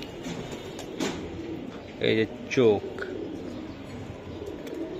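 A black-necked pigeon gives two short, rolling coos close by, each a quick throaty burst, while someone talks quietly nearby.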